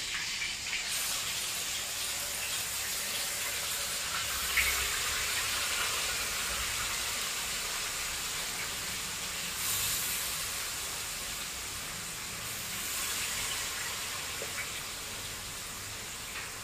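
Pieces of red sea fish sizzle steadily in hot oil in a pan for a fish curry, a constant bright hiss with faint crackles and no talking.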